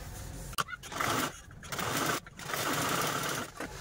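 A sewing machine stitches a cut fabric piece for a small pouch in several short bursts of motor buzz with brief pauses between them, fairly close.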